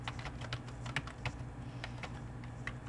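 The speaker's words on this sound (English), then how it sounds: "And we just type along as if we're ordinarily typing the expression." Fast, even keystrokes on a computer keyboard while entering Lisp code in an 1980s Interlisp editor, quiet and close with a steady clicking rhythm and no voices.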